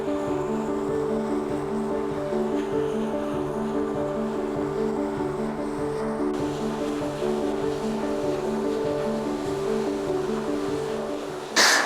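Steady, dense rush of water from a waterfall on the River Doe along the Ingleton trail, a constant broadband roar with a low rumble that holds throughout, close and loud, with no voices.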